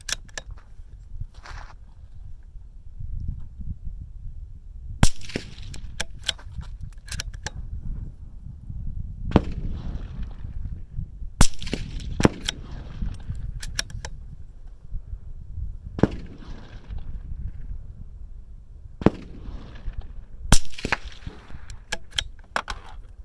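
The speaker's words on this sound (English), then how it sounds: "Since I plan on shooting the rifle suppressed, I sighted it in with the suppressor." Suppressed shots from a CZ457 rifle in 17HMR, sharp muffled cracks repeating at irregular intervals several seconds apart, each a brief loud transient over steady outdoor background rumble, no talk.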